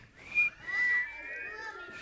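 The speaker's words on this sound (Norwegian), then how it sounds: "Plystre svagt og forsiktig." Soft, careful whistling in a children's sing-along: a few gentle sliding whistled notes, close and quiet, with brief pauses between phrases.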